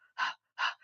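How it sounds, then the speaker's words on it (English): Two short, sharp breaths are forced out one after the other in a panting breath exercise. They are close and fairly loud, with silence between them and no talking. "So this breath, the panting breath,"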